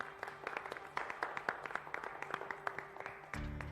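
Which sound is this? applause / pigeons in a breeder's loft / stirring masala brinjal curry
applause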